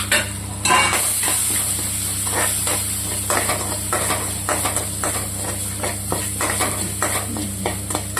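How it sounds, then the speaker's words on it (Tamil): Pepper and cumin crackle and sizzle steadily in hot tempering oil for beetroot rasam, close up, with a spoon scraping and clinking against the pan every second or so. "இந்த ஸ்டேஜில் வந்து மிளகு ஜீரகம் இதிலே போட்டு தாளிச்சிடலாமா"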